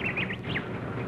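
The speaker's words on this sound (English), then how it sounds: "listen to the birds sing in the morning" Several short, rising bird chirps sound through a steady hiss of background noise, coming in quick little bursts near the start and again midway.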